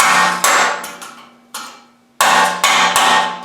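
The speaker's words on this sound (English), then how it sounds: "I like to take a clamp and a chisel and just knock the drops off the edges." Sharp metallic knocks from a chisel knocking drops off a forged metal oak branch with acorns, five or six loud ringing hits at uneven intervals, each decaying briefly; no voices.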